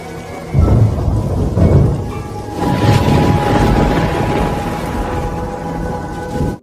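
A loud, heavy rainstorm with deep, rolling thunder that booms several times over a constant roar of rain. No voices can be heard.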